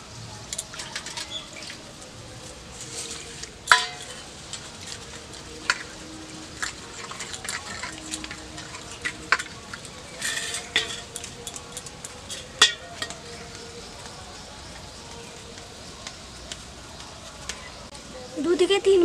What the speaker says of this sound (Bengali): এবার এই ডালটা আমি ভালো করে ধুয়ে নেব।